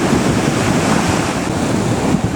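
Waves breaking along a seawall on the coast of Madeira, producing a loud, continuous roar of surf and spray with a slight gust of wind noise against the microphone.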